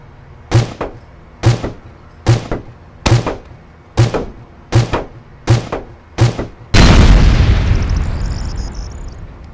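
Sniper rifle shots in the online shooter Team Fortress 2 on the 2Fort map: eight loud, evenly spaced booming shots, followed by a heavier sustained blast that slowly fades.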